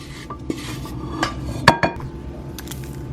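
Chicken liver terrine mixture being stirred in a bowl, a few clinks and knocks of a utensil against the dish over faint scraping, close by and brief, no talking.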